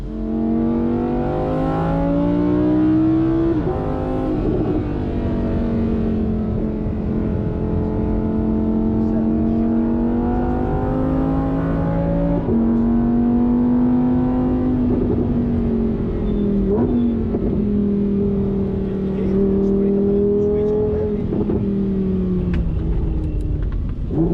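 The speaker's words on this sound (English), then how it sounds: "I'm sliding a Lamborghini through dirt" A Lamborghini Huracan Sterrato engine drones and revs with shifting pitch as the car slides through dirt on a rally course, loud and continuous throughout, with a person talking at times.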